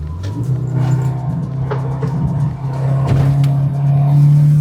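Turbocharged 2002 Subaru Impreza WRX engine pulling hard out of curves, a loud, close, sustained drone rising steadily in pitch as it accelerates, with no one talking.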